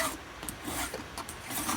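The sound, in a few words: filing a chainsaw chain with a Vallorbe file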